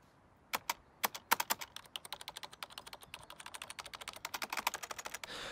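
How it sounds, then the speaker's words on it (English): Keys clack on a chunky old Dell computer keyboard, quiet and close, in quick irregular bursts that speed into steady rapid typing. "we have the HP mouse and chunky Dell keyboard, the key noises of which remind me of every 90s movie office scene"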